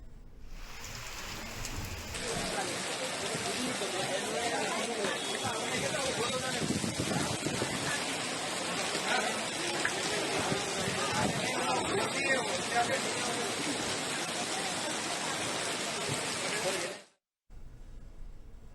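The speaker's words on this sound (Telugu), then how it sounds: "ఇవాళ ఉరుములు, మెరుపులు, గంటకు 30 నుంచి 40 కిలోమీటర్ల వేగంతో ఈదురు గాలులతో కూడిన వర్షం పడింది" Heavy rain pours in Hyderabad during a storm, a dense steady hiss of falling drops on surfaces lasting throughout, with faint background voices under the downpour.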